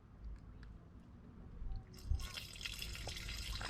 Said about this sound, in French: Déjà j'entends couler en bas.